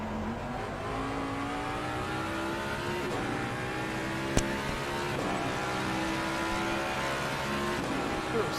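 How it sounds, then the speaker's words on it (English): Turbocharged race car engines in Assetto Corsa Competizione at Spa rise and fall through repeated revs, with gear-change steps and a sharp click partway through, all under a steady background roar. "People need to rev these engines a lot because the turbo does not spool up way early"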